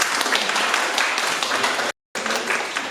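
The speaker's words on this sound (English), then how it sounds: "please give them a round of applause" An audience applauds at the close of a report launch event on public open spaces along Victoria Harbour, a steady, dense burst of clapping that cuts off abruptly for a moment before resuming.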